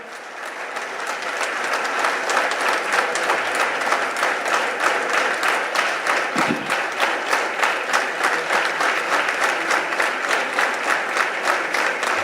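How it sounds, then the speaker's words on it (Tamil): Sustained applause from a large audience at a political rally in Tamil Nadu, dense steady clapping that rises within the first two seconds and holds loud and unbroken to the end, with no talk over it. "ஒரு நிமிடம் நாம் இடைவிடாத அவருக்கு ஒரு கைத்தட்டு கொடுக்கணும்"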